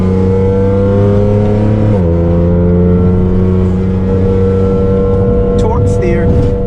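A straight-piped Ford Explorer Sport pulls from an on-ramp onto the highway, its loud, steady exhaust drone heard from inside the cabin, dipping briefly as it shifts and then holding a constant cruising roar with a brief higher noise near the end.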